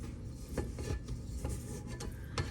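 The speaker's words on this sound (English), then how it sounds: "I'm going to scrape down the sides here just to make sure." A utensil scrapes and rubs around the sides of a bowl of sugar cookie dough, a close, soft rasping with a few distinct strokes over a steady background.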